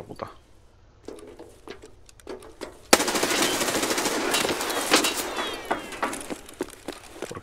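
A raider fires in Escape from Tarkov. A few scattered shots come first, then a loud sustained automatic burst runs on for several seconds, close and dense.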